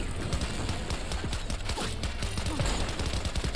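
Rapid gunfire from a car in Cyberpunk 2077, with bursts of shots crackling steadily over the roar of the driving and the game's background din.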